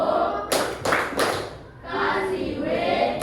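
A primary school class claps a rhythmic 'tepuk keren' cheer: a few sharp, loud group claps in a pattern, then a burst of mixed clapping and voices.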